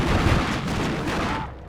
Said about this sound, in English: Yeah, some heavy fire coming here, and this is from my Bradley too